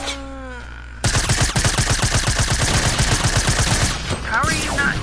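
Rapid automatic gunfire in the video game Fortnite, a loud, fast, evenly spaced burst that starts abruptly after a brief quiet moment with voice-like tones and rattles on for about three seconds before tapering into scattered game sounds.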